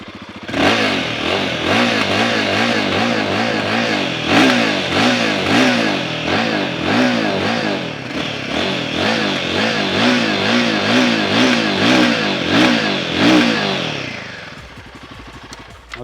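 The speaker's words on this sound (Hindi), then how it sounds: "बाइक का एग्जॉस्ट साउंड कैसे करता है वो मैं आपको सुनाता हूँ। सबसे पहले हिमालयन का ही सुनते हैं।" A Royal Enfield Himalayan motorcycle's exhaust revs up and down again and again, loud and close. Bursts of throttle rise and fall over a steady idle, then the engine cuts off near the end.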